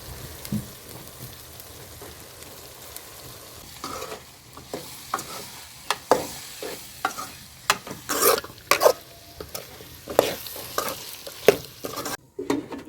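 Poothagadda vegetable curry is stirred and fried in a pan, the low sizzle broken by a series of sharp spatula scrapes and clacks that grow louder and more frequent in the second half, with no talking.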